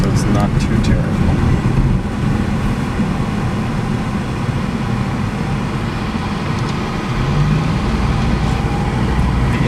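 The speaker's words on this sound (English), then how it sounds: "There is quite a bit of road noise." Constant low road rumble and tire noise inside a moving Daihatsu Gino with small wheels and tires, a steady broadband drone filling the cabin throughout without breaks.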